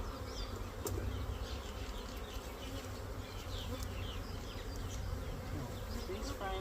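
A caught honeybee swarm hums inside an eight-frame hive box, a continuous, even buzz of many bees at close range with a few individual insects flitting past, and no talking.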